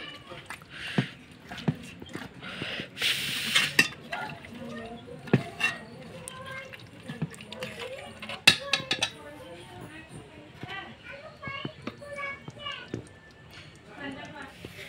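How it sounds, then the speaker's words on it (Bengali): Meat being stir-fried (kosha) in a pot: soft wet squishing and scraping clatter, faint and intermittent, with someone speaking over it throughout. "তো এখন একটু আবার মাংসটা কষিয়ে নিব।"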